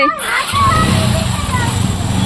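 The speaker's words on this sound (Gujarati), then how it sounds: "તો આપણી આઈ સ્માર્ટ બાઇક ચાલુ કરે છે હવે" A motorbike engine catches and settles into a steady low rumbling idle, loud and close, with voices over it.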